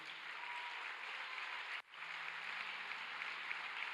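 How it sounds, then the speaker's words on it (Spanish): A church congregation claps together in a sustained, even burst of applause filling the room, briefly cut by a short gap before the clapping resumes at the same steady level. "le damos un aplauso al Señor"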